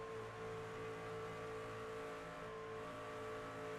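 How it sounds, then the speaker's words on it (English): Racing truck engine in an Outlaw Truck Series race video game, a steady loud drone with faint throttle lift-offs and reapplications, the roar holding near and constant throughout. "Hear him off the throttle, on the throttle."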